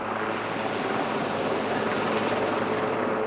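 A helicopter flies nearby, its engine and rotors giving a steady, loud, even drone with no pauses and no voices.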